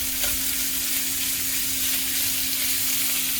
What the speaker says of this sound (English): The shrimp, they cook really fast